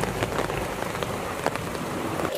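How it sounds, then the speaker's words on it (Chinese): Heavy rain pours down over an old, drained fish pond during a fish catch, a dense, steady hiss of drops striking water and ground with no one speaking. "下大雨了， 太大了吧这一条，下大雨了"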